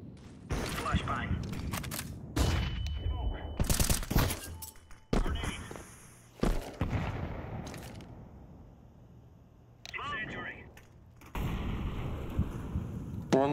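Flashbang grenades and gunfire in Counter-Strike 2 competitive play, loud sharp bursts and blasts in clusters with quieter gaps, mixed with in-game radio voices.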